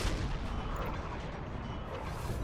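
Distant artillery and musket fire on a Napoleon Total War battlefield, a steady rumbling wash of dull booms and crackling volleys, continuous and moderately faint.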